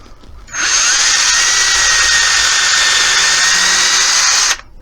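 A power drill drives screws into 20mm-thick wood while building a cottage-style coat rack with cubbies, giving one steady, loud whine that runs for about four seconds with no talk.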